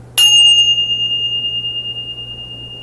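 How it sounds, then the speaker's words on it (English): A single bright bell strike rings out and its clear tone slowly fades over a few seconds, loud and close. "Let's ring the bell."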